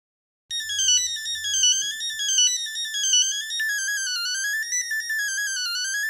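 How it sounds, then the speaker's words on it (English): Late-1990s mobile phone playing a monophonic ringtone, a loud, single-line beeping melody that starts abruptly after a brief silence and runs continuously to the end. "cell phones at this time were only capable of producing monophonic ringtones"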